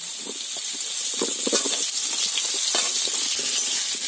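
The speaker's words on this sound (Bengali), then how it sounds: "এবার এই তেলের মধ্যে লাউগুলোকেও ভেজে নেব" Bottle gourd pieces fry in oil left after frying fish for a fish curry, a steady bright hiss with soft crackles and light stirring, close and continuous.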